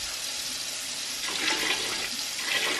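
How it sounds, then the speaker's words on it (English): Chicken broth pours steadily into a soup pot for matzo ball soup, a continuous close liquid splash that swells slightly toward the end, with no talking. "I'm going to add my chicken broth"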